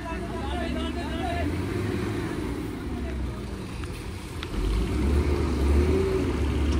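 A twelve-wheel truck's engine rumbles low and steady as it pushes an overturned pickup in the rain. It swells louder near the end, with voices talking over it.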